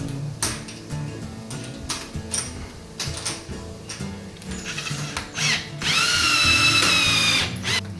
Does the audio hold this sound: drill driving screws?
yes